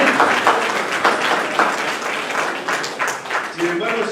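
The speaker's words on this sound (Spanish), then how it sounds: "Denle el aplauso a todos, hermanos." A church congregation applauds during a sermon, a sustained wash of many hands clapping from start to finish, fairly loud and close, with some voices mixed in.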